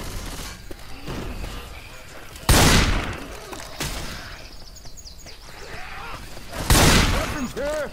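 Video game gunfire cracks in two loud bursts amid ongoing distant shots and battle noise, while voices talk throughout.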